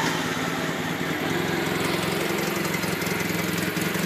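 A 1962 Honda Dream 250 CA72 motorcycle engine runs steadily at idle, a continuous close mechanical thrum with a rapid pulsing rhythm and no talk over it.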